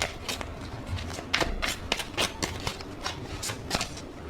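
Tarot cards shuffled by hand at close range for a pick-a-card reading, giving a steady run of soft papery riffles and flicks with sharper snaps every half second or so, no talking.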